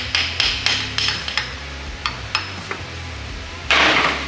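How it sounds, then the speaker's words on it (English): A hammer taps metal repeatedly, seating a CV axle seal on a Nissan NP300, with bright ringing clinks in an uneven rhythm, close by, ending in a louder, duller knock. "You hear it going ting, ting, ting, and then it's a louder knocking noise."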